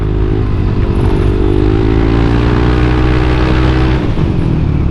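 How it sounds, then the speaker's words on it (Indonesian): A Yamaha Aerox 155 VVA scooter's exhaust drones steadily and loudly while riding, a continuous low engine hum with a slight pitch rise and a brief dip near the end. "Suara knalpotnya"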